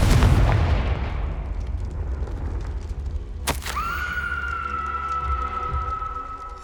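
Confringo blasting curse in the game Hogwarts Legacy: deep rumbling booms followed by a sharp blast, then a ringing tonal hum that sustains afterward.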